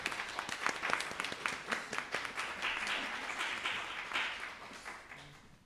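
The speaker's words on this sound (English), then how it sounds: "That's a round of applause." Audience applause at a round-table panel on art and activism, fairly quiet, many hands clapping with individual sharp claps early on that blend into a steady wash and fade out toward the end.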